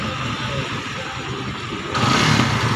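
A repaired motorcycle engine runs steadily nearby, then its pitch and loudness rise as it is revved toward the end.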